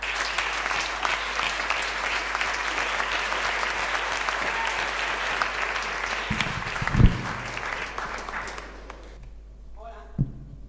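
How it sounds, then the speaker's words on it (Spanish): An audience at an awards gala applauds a comedian with sustained, dense clapping that fades out toward the end, a couple of thumps near the close and a voice beginning to speak. "Así que un fuerte aplauso para Patricia Sornosa."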